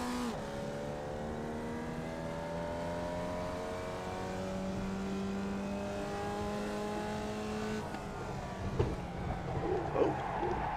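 Race car engines drone steadily in the iRacing sim, their pitch climbing and shifting through gears with several cars close together, then a rougher patch of bumps and revs near the end; no one talks.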